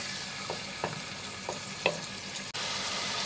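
Chicken fillets sizzle steadily in a hot pot while a utensil scrapes and stirs them a few times, with one sharp knock near the end.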